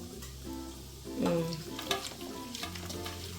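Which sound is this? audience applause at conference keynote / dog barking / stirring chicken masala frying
stirring chicken masala frying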